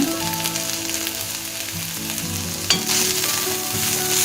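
Ginger garlic paste and turmeric sauté in a hot pan with a constant close sizzle, broken by scraping and stirring strokes for a blood fry dish.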